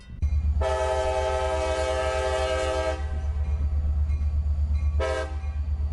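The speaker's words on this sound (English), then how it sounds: "the juice train can be spotted coming and going from the Tropicana plant in Bradenton" A loud train horn blasts for a couple of seconds, then sounds again briefly, over the heavy continuous rumble of a Tropicana juice freight train rolling past in Bradenton, Florida.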